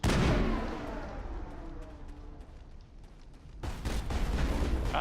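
Gunfire in the video game Mass Effect: a loud burst of shots at the start, then a quieter stretch of scattered reports, and a second heavy volley near the end.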